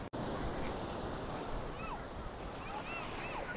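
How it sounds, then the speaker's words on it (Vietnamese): Sea waves at Cửa Tùng beach, high white-capped surf producing a loud, steady wash and roar close by, with faint voices and a brief dropout at the start. "So với biển Thuận An thì bên thầy Cửa Tùng sóng cao và bạc đầu hơn, mạnh mẽ"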